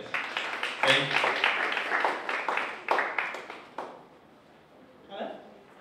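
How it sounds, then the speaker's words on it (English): Audience at a media fellowship exhibition gives a presenter a round of applause, a burst of clapping that rises and then tapers off into quieter scattered claps, with a brief voice near the end. "A round of applause for her, please."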